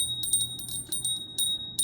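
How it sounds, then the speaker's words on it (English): A small bell rung at the opening of a tarot reading sounds in a series of bright, clear chimes, struck repeatedly at uneven intervals, close and fairly loud. "So let's start with the bell."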